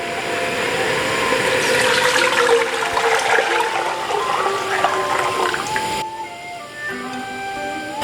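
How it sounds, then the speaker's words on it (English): Water poured into a cooking pot with browning beef for Korean rice cake soup, a steady gushing splash that fades after several seconds to a quieter trickle and simmer. "Now the beef is cooking and it looks like it's almost done, so I'm going to go ahead and add my water in."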